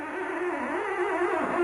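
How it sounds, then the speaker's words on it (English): A finger and pinstripe brush dragging across a car hood's painted surface, giving a continuous squeaky, whining friction tone that wavers in pitch, close and alone. "Now the noise you hear is the tension from my finger on the surface of the hood."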